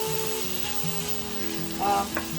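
Sofrito hitting meat frying in a pan, a soft steady sizzle with faint stirring scrapes and a brief higher squeak near the end, no voices.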